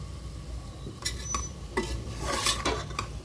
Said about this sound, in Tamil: ஒரு நிமிஷம் நல்லா மிக்ஸ் பண்ணி விடுங்க.